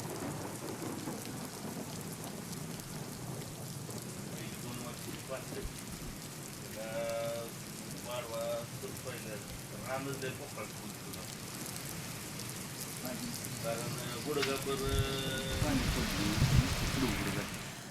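Heavy monsoon rain falls steadily across the whole stretch, with low rolls of thunder underneath and a person talking partway through; the downpour swells louder toward the end.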